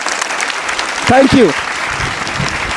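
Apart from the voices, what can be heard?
applause for a girl student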